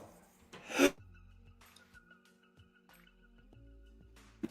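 A single sharp sneeze bursts out near the mic, followed by quiet room noise with faint clicks and a low hum.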